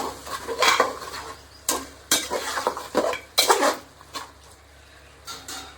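A spoon stirring tomato chicken curry in a metal pot, with a series of clattering scrapes and knocks in irregular bursts over a faint background sizzle, close by and with no voices.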